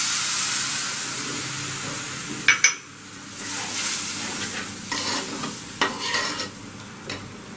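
Spices roast in a pan over a low flame, a steady soft sizzle under the repeated scrape and clink of a spoon stirring, with a few sharper hisses and taps.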